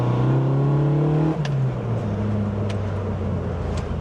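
Austin A-series engine, enlarged for more power, revving steadily and then dropping back to a lower, rougher drone, moderately loud and close with no talk.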